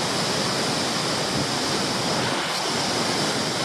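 Adamsons Falls in Tasmania thunders with a huge volume of water, a dense, unbroken roar close by, loud and steady across the whole span with no voices.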